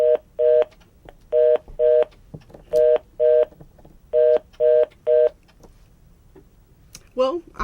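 Touch-tone telephone signalling heard over a broadcast phone line after a caller disconnected, with repeated paired beeps in a steady rhythmic pattern, fairly loud, followed by a voice near the end.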